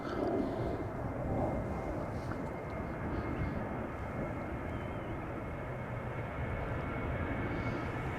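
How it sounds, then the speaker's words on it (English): Boeing 787-10 airliner at Amsterdam Schiphol Airport heading toward the center runway for departure, a steady broadband engine roar and rumble at moderate distance, continuous and even throughout. "another 787-10 is just coming this way, has just turned around the corner, the southern threshold of the center runway, coming this way"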